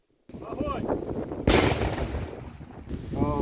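A deep explosive boom erupts partway through as bomb disposal specialists detonate enemy munitions at a designated site, a loud broadband blast over wind noise and brief voices.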